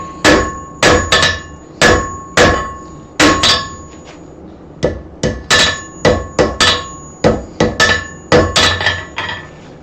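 Hammer blows drawing out a metal forging, loud ringing strikes in uneven bursts of several quick hits with short pauses between, each blow leaving a brief metallic ring, close by with no talking.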